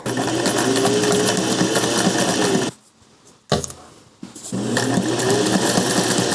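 A sewing machine runs steadily, stitching a wide zigzag across quilt hexagons, with a loud continuous whir that stops briefly in the middle, gives a short burst, then resumes at full speed.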